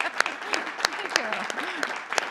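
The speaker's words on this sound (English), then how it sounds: "Let's give them a round of applause here." Scattered, moderately faint applause at a school district board of education meeting, individual claps standing out over a murmur of voices.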